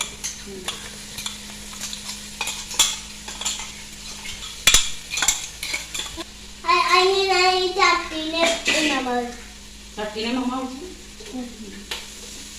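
Crushed ginger, green chili and garlic are sautéed in a pan, with a steady sizzle under repeated spoon scrapes and sharp metal clanks against the pan, while voices talk over it partway through.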